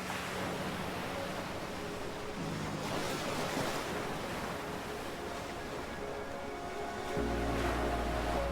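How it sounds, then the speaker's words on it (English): Gentle ocean waves wash onto the golden sand of an Australian island beach, a steady broadband surf roar that swells and recedes with wind noise, with a deeper rumble near the end and no voices. "Gently crashing onto the golden sands with a soothing, timeless energy, each wave is a whisper from the ocean."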